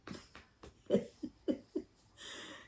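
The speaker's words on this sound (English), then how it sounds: "if you're hearing snoring, it's over here" A small dog snores in short, soft rhythmic snorts and breathy puffs, close by and fairly quiet in an otherwise calm room.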